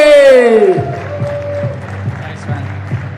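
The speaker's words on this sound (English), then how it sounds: "Round of applause to Omar Mequid," Applause from a crowd at a squash league prize-giving in the Frans Otten Stadion, breaking out right after a loud spoken call and continuing as a steady, moderately loud patter of claps.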